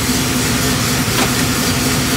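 A 1973 Impala's Small Block Chevy 406 V8 idles steadily with a low, continuous rumble and a constant hum, close and loud, with no talking.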